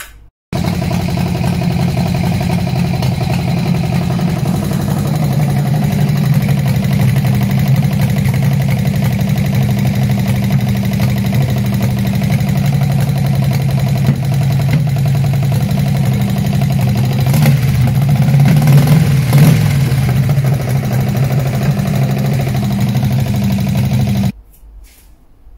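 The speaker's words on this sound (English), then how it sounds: "it proves that I actually got the engine running" An old Harley-Davidson Sportster chopper engine from a barn find, running steadily at idle for about 24 seconds, a loud, continuous low rumble with a slight swell near the end before it cuts off.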